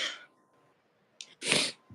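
A single hefty sneeze from someone who is sick bursts out loudly near the end, preceded by a brief intake of breath and followed by a short rustle, with a quieter sharp breath or noise at the very start.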